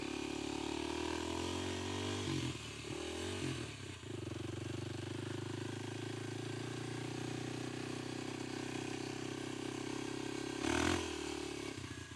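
A Kawasaki KLX300 dirt bike in first gear ploughs through deep sand, its engine bogging and revving unevenly up close, with brief dips and a sharp surge near the end.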